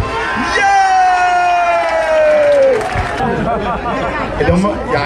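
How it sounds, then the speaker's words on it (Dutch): A festival crowd at a 24-hour charity event cheers, whoops and claps loudly, a mix of adult and children's voices, with a voice calling out over a PA. "Dames en heren, geef ze nog een dagelijks applaus."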